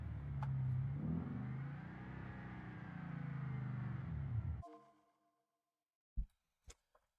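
A car engine in the BeamNG driving game revs hard and steady toward its redline for about four and a half seconds, then cuts off abruptly. After a pause come two short sharp clicks or pops.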